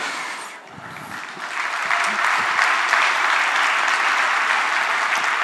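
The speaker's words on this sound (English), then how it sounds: "how about giving it a clap so I know to continue?" A conference audience at a JavaScript talk breaks into applause, swelling quickly into loud, sustained clapping from a large crowd that holds steady to the end.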